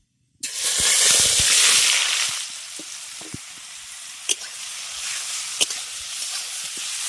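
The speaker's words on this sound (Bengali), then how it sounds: "তেলের মধ্যে ফোড়নে দিয়ে দেব কালো জিরে কালো জিরাটা ফোড়ন দেওয়ার পর দিয়ে দিচ্ছি গ্রেট করে রাখা লাউ" Grated bottle gourd hits hot oil tempered with nigella seeds, setting off a sudden loud sizzle that settles into a steady, softer frying hiss, with a few spoon clinks against the pan.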